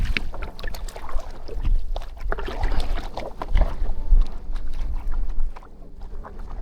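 Kayak paddling down a Corsican river toward the sea, with irregular splashes, water rushing past the hull and wind buffeting close to the microphone throughout, steady and fairly loud.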